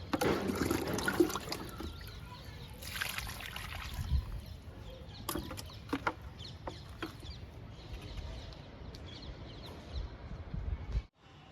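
Liquid fertilizer trickles and splashes faintly onto a bean plant outdoors, with a rooster and hens clucking nearby and scattered small knocks throughout.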